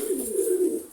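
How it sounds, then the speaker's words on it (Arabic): Soft, low cooing of pigeons on a rooftop, a single drawn-out call lasting about a second, fairly faint and slightly distant, with no voices. "اللي طلع بالسطح الطيور"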